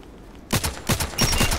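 Rapid gunfire bursts from the online shooter Contract Wars, several sharp close shots in quick succession after a brief quiet start.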